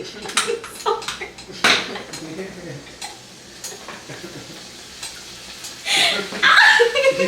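Chicken stir fry spatters and sizzles in a hot pan, with scraping stirs and clinks of utensils in irregular bursts that grow louder near the end, while people talk and chuckle nearby.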